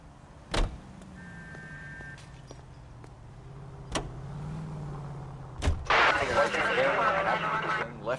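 A car driven in the video game L.A. Noire gives a low, steady engine hum throughout, broken by a few sharp clicks and thumps, with a burst of busier noise near the end and voices talking over it.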